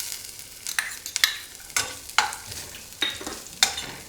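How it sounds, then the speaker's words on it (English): Ginger stir-fried with dry coconut powder in a pan gives a steady sizzle broken by sharp, regular scraping strokes of a spatula, close and moderately loud. "And stir fry."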